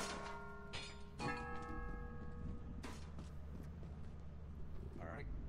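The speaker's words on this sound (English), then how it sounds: "the bell dropping noise was very needed" Bell dropping in Lethal Company, a couple of ringing metallic clangs with long sustained tones that decay over a busy background, under talking voices.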